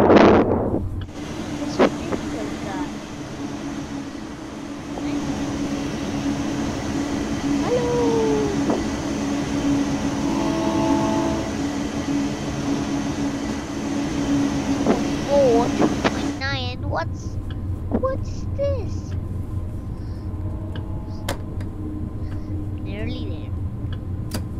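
A train in Train Sim World 2, driven in snow and ice, rumbles with a steady, close cab drone for most of the stretch, then drops to a lower, quieter hum near the end as it slows.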